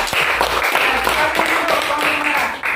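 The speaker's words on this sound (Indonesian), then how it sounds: "Kita berikan aplaus ya untuk kelompok merah." Classroom applause for a student group, a dense wash of many hands clapping steadily for nearly three seconds, loud and close with a murmur of voices underneath.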